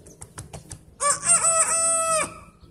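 A few quick clucks lead into a single loud, nearby rooster crow from a tree that holds for over a second before cutting off.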